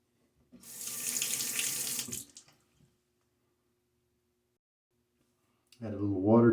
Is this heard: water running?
yes